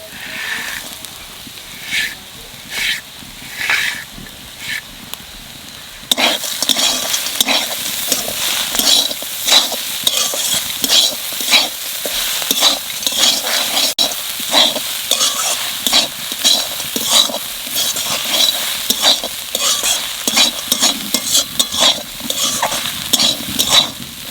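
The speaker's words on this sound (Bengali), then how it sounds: "শাক অর্ধেক ভাজা হয়ে গেছে," Leafy greens frying in a pan: a softer sizzle at first, then a loud, steady hiss with rhythmic stirring and scraping against the pan.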